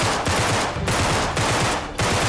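Dense automatic gunfire in Uncharted 3: Drake's Deception, loud rapid bursts with brief gaps between volleys, filling the scene without speech.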